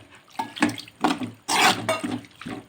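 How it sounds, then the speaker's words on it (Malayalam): Water poured into a cooking pan holding squid and salt, a bright splashing pour in several bursts with one fuller gush in the middle, close and alone. "ഇനി നമുക്ക് കുറച്ച് വെള്ളം ഒഴിച്ച് കൊടുക്കാം."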